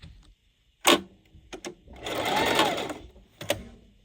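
A sewing machine stitches in short bursts and one longer run, with sharp clicks between, while sewing a quick Christmas gift; a voice speaks briefly.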